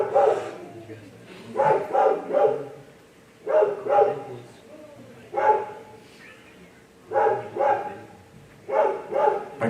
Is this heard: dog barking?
yes